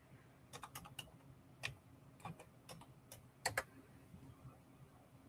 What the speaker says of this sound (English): I'm just going to type in greens.